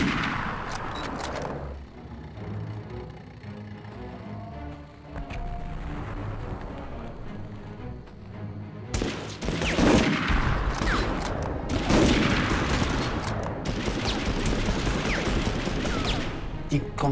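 Gunfire in the PS1 game Medal of Honor crackles in bursts over a low rumbling backdrop, growing louder and denser in the second half, with someone talking over the action.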